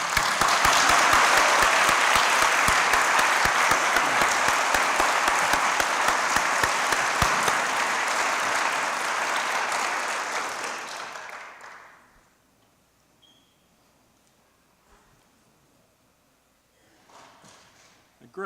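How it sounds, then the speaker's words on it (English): A large graduation convocation audience applauds the graduates: loud, dense, sustained clapping for about ten seconds that fades out, leaving near silence with a little faint movement at the end. "Today's your day, and we applaud all of you"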